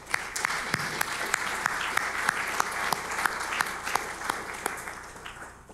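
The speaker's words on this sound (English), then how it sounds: "Let's give them all a round of applause." Audience applause at an international forum plenary, a steady wash of many hands clapping with scattered sharper claps standing out, sustained and even at moderate distance, with no talk over it.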